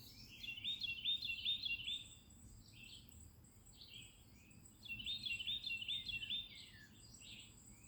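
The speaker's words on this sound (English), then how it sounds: "to listen to the birds" Birds sing in a green yard in the morning, two bursts of bright, trilling, chirpy song from a moderate distance over a quiet outdoor background.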